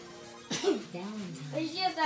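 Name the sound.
child sneezing due to allergies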